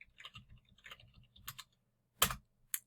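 Commands being typed on a computer keyboard while configuring Cisco VLAN routing: a quiet, close run of irregular key clicks followed by two sharper, louder keystrokes near the end, with no talking.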